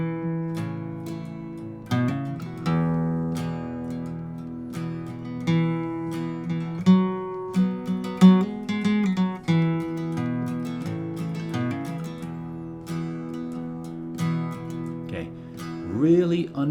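Acoustic guitar playing the intro riff of a song: ringing bass notes picked under light, feathery strums, a steady understated pattern of plucked notes and soft chords played alone up close.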